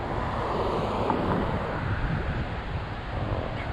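Roaring wind buffets the microphone in strong gusts while riding a 20-inch 48V Ecotric fat tire e-bike, a loud, continuous broadband rush with no talk.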